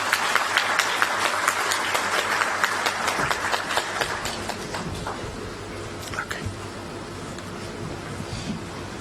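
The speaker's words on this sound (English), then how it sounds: "we put our hands together and clap for this opportunity" Audience at the opening of a Uganda–Europe business forum clapping together, a loud dense applause that gradually thins and softens over several seconds.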